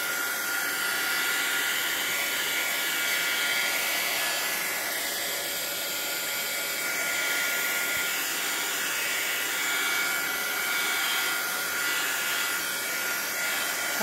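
A handheld dryer blows steadily over an envelope sprayed with distress ink, a loud continuous airy whoosh that stays nearly constant throughout with no voices.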